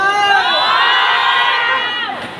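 A crowd cheers and shouts at a concert held at an open-air market, a loud, sustained burst of voices that slowly fades toward the end.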